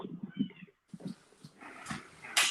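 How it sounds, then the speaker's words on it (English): A small kitten meows several times in short, close calls, mixed with bursts of nearby rustling and handling noise. "It's a little kitty."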